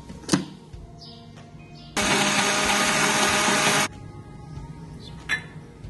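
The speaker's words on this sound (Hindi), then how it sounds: "मैं इसको ब्लेंड करती हूँ।" An electric blender whirs through a cold coffee shake with ice cream, a loud steady two-second burst between quieter kitchen clinks and knocks.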